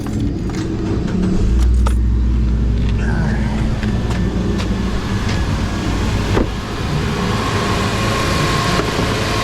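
Nissan Versa engine starting up, a loud low rumble that catches and settles into a steady idle, heard up close alongside faint jingling and clicks, with brief talk.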